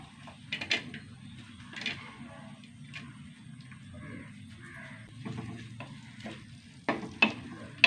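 Onion being sautéed in hot oil in a pan, a steady soft sizzle with scattered stirring scrapes and a few sharper clicks toward the end, fairly close and without speech.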